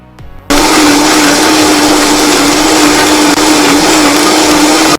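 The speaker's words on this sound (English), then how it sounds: "I'm gonna go ahead and use my blender." A blender roars as it blends homemade detox juice, kicking in abruptly after a brief quiet start and then holding a loud, steady whirring hum right up close.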